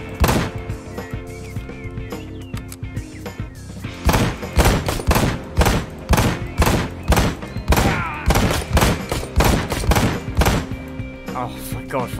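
Gunfire in Ride To Hell: Retribution, with scattered shots early and then a long run of loud, evenly spaced blasts hammering at a steady rhythm against enemies, backed by game sound.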